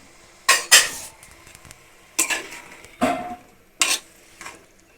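Chopped tomatoes tipped into an eggplant curry in a pan and stirred, producing four or five loud clattering scrapes of a spoon against the pan, separated by quiet gaps, close and without speech.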